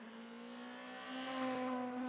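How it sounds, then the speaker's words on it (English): Engine of a 1990s BTCC touring race car at Castle Combe holding steady on the rev limiter, a continuous buzzing drone that swells slightly louder halfway through, with no voices. "any car sounds good on the rev limiter"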